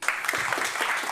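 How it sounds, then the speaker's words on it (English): An audience applauds a speaker at a mainstage event, a short, dense burst of many hands clapping together at a steady level. "Give him a big round of applause."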